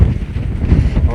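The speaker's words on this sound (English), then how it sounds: "it's very windy" Strong wind buffets a microphone on an exposed hilltop near the England-Scotland border, loud low gusty rumbling that swells and dips across the short moment.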